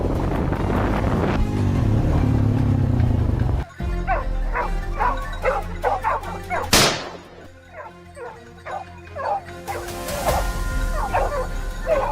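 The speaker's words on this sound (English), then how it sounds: "the hunting dog's bark suddenly echoed through the still air, this time more urgent and relentless than usual" A hunting dog barks in a rapid, insistent series of sharp yips, fairly close, after a noisy rushing stretch at the start.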